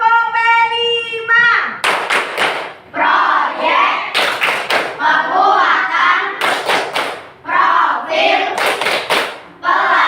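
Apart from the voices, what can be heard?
rhythmic clapping chant by children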